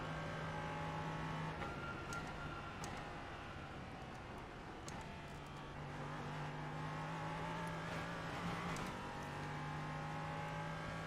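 A race car engine drones steadily at Daytona in iRacing, its tone rising and falling with faint shifts in revs and a few sharp ticks, all at low volume with no talking.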